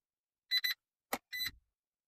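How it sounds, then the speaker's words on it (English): Several short electronic beeps in quick pairs from a Chrysler Crossfire key fob with a pushbutton start kit, then a brief click and another beep, crisp and close against silence. "it'll give you a long beep"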